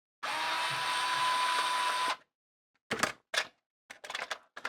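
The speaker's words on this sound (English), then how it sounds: "Would be a good idea to turn on the electric screwdriver." An electric screwdriver opening a Transformers Ultimate Bumblebee toy: a steady two-second whirring run, then several short bursts of buzzing and clicking close by.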